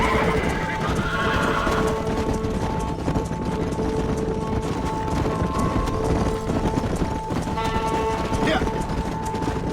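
In the Red Dead Redemption video game, a horse neighs and whinnies while hooves clip-clop steadily during cattle herding on a ranch, with voices talking over the loud, continuous hoofbeats.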